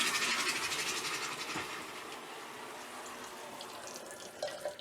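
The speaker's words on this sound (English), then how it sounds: "Let all the water drain out. There's water in the water tank that's draining, as well as water in the pipe." Water draining out of a cottage's pipes and water tank while it is being winterized, a steady broadband rushing and trickling that is fairly loud at first, then eases to a lower, constant flow with a few splashy bursts near the end.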